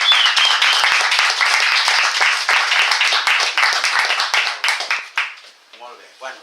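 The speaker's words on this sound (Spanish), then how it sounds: "Bé, un fort aplaudiment per ell." A lecture audience gives a loud, close round of clapping at a talk on transpersonal psychology. The applause stays dense for about five seconds, then thins and stops as a voice starts speaking.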